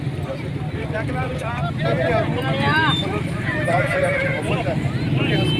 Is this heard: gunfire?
no